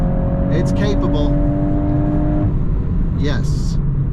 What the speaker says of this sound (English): Love this engine, EA888.